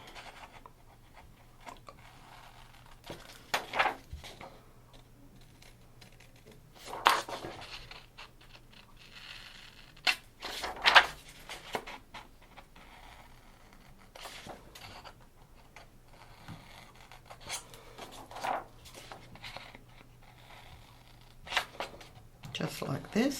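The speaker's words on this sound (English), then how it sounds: "I'm just going to trim these out with a pair of scissors." Scissors trim scored paper card for a decoupage card kit, making several short crisp snips and rustles spaced across the clip, quiet and close with a low steady hum beneath.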